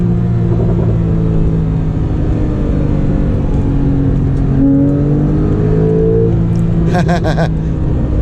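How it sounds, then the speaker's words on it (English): A turbocharged Porsche 911 engine revs high and climbs in pitch with a steady rumbling whir, loud and close, with no voices over it. "Even though this car is turbocharged, it sounds pretty good in the higher RPMs."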